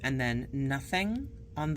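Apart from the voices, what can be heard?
No distinct noise like a dog, phone or traffic.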